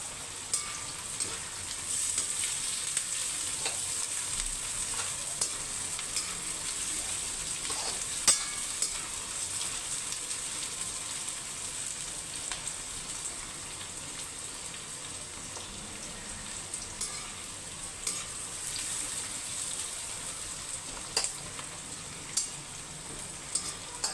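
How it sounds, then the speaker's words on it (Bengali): Onions frying on a high flame for chicken biryani give a continuous crackling sizzle with scattered pops and occasional stirring, steady and close throughout. "একটু হাই ফ্লেমে এটা ভাজতে হবে পেঁয়াজগুলোকে।"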